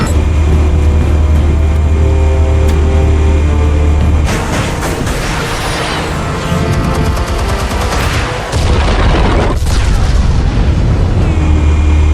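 Explosives detonating in the Batman Telltale Series (2016) game, heavy booming blasts and rumbling debris over a loud, dense continuous roar, with a sharp burst around the middle and crackling aftermath.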